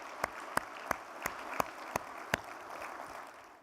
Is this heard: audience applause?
yes